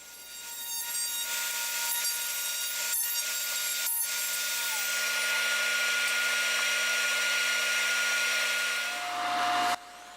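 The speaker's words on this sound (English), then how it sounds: "time to take out the router and route out those tails" A router cutting dovetail tails in a wooden board, a loud, continuous high whine close by that holds steady for several seconds, with no speech, before winding down.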